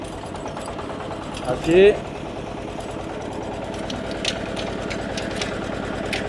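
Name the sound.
two-wheel farm tractor engine on the road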